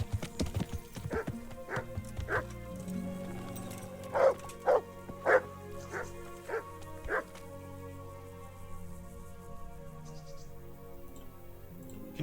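A dog in the medieval game Kingdom Come: Deliverance barks in a short series of sharp yips and woofs, several close together, at moderate distance against quiet ambience.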